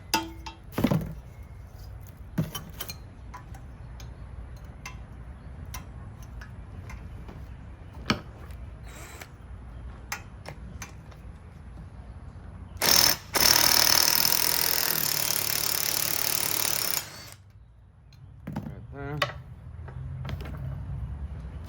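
An impact wrench hammers on a 15 mm brake bolt of a C3 Corvette during a brake upgrade, a loud, dense rattling burst lasting about four seconds, set among scattered clicks and clanks of tools and no voices.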